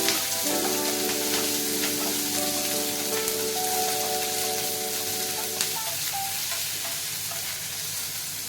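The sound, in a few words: onions frying in a pan with salt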